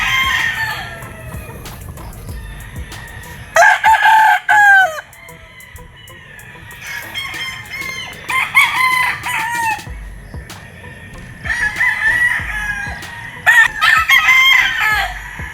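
Gamefowl roosters crow at a gamefarm in several loud, nearby crows, some overlapping, with quieter clucking and farmyard noise between them.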